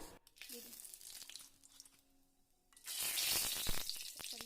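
Bay leaves dropped into hot oil in a wok burst into a loud, hissing sizzle after a quieter stretch, with faint stirring and rustling sounds before it.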